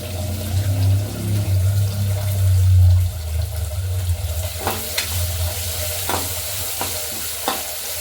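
Cumin seeds and garlic cloves fry in a pan with a steady low sizzle, interrupted by several sharp scraping stirs of a spoon near the end.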